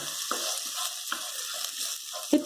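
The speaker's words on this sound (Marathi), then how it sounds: "आणि जैन मसाला तिखट आता हे दोन मिनिट आपण भाजून घेऊ" Jain masala chili powder roasts in hot oil with a soft, steady sizzle and occasional scraping stirs of a spoon, close and moderately quiet, with no voices.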